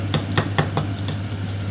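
Breaded fish fillet ingredients being mixed, a close series of four or five scraping stirring strokes over a steady low hum in a kitchen, with no talking.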